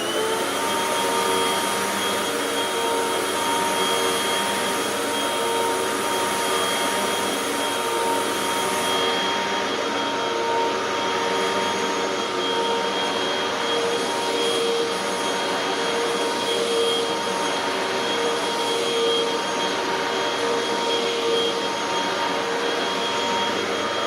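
A Hoover WindTunnel 2 pet vacuum cleaner runs continuously over medium-pile carpet during a baking soda test, a loud steady whine with a constant motor hum throughout.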